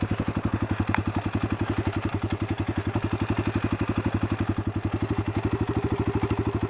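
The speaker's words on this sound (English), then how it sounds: "This bike will just go by itself at like this speed in second gear." A quad bike engine chugging along by itself in second gear, a loud, close, rapid regular thumping pulse that holds steady throughout with no voices.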